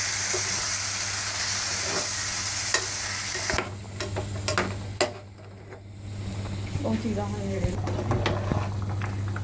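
Chopped onions dropped into a pot for egg biryani sizzle steadily over low heat, with intermittent scraping and stirring clatters and occasional knocks near the middle; a faint voice surfaces briefly beneath the frying.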